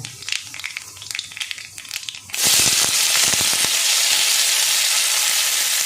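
Chopped onion hits hot oil with black cumin tempering, setting off a sudden loud, steady sizzle after a quieter stretch of small crackles and pan sounds.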